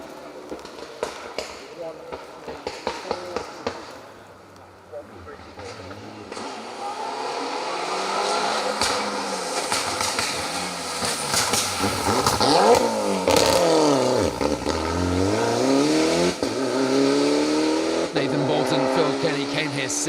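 A BMW rally car drives an asphalt stage at Rali Ceredigion. The engine rises and falls hard through gear changes and revs close by, with a commentator talking over it.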